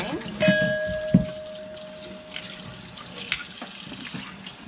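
Water runs and splashes from a tap as the outside of the lines of a surge bucket milker are rinsed, a close, fluctuating rush with a couple of brief clinks and tones at the start.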